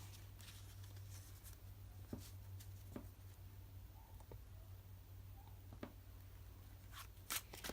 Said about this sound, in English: Give this a bit of a shuffle.